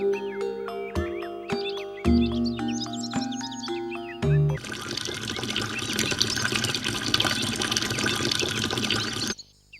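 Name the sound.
oil being poured out for a customer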